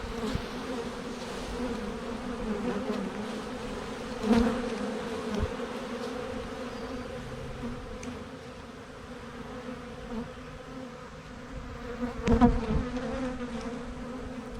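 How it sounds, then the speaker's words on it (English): Many honey bees buzz in a dense, steady drone, with a few louder swells as bees pass close. "Lots of bees."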